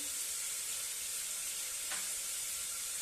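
Steady, soft sizzling of vegetables sautéing in a pan for broken wheat khichdi, a continuous hiss with no voices.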